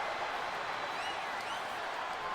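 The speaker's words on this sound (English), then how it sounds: "And do you hear this capacity crowd?" A capacity wrestling arena crowd in WWE 2K25 roars in a dense, continuous wash of cheering and whistles, loud and steady from start to finish, with no clear talk on top.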